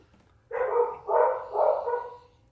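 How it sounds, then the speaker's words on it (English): Dogs bark indoors in a home, three loud, close barks in quick succession, each about half a second long, with no talk over them. "the dogs are barking"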